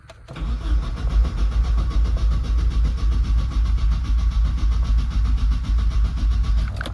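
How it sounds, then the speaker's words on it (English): A turbocharged Nissan 240SX with a KA24E engine cranks over steadily and loudly for several seconds, a continuous low rumbling churn with no voices. "Turn the car over."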